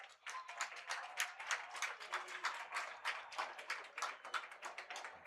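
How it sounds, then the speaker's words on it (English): A crowd at a high school baseball semifinal claps in a brisk, scattered patter, many hands slapping at once in a light, even spread that holds steady for several seconds at moderate distance. "Some applause there."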